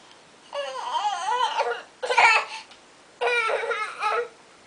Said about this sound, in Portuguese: Deixa eu gravar o chorinho dela pra ficar de recordação